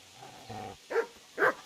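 Two sharp dog barks in Kingdom Come: Deliverance, evenly spaced after a low rumbling murmur, fairly close and distinct.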